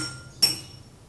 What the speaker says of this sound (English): Hit the glass with the least water and then hit the glass with